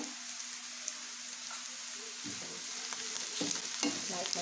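Ginger and garlic pieces frying in hot oil for a vegetable gravy, a soft steady sizzle with occasional stirring scrapes and crackles, fairly quiet and without talk.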